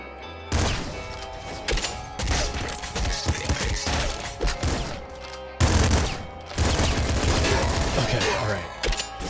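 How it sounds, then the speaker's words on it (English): Rapid bursts of automatic shotgun fire in a shooter game, the bouncing shots coming in dense volleys with short pauses between them, loud and close. "Auto shotty because it can bounce off walls, sure."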